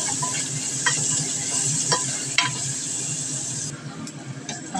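Garlic, chili and white chives fry in a pan, a close, continuous sizzle with occasional stirring clicks and scrapes against the pan, no speech.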